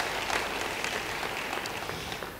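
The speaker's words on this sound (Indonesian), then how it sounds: "Yang setuju beri tepuk tangan bagi dia." A church congregation applauds during a sermon. The clapping is a moderately loud, continuous patter of many hands that fades gradually.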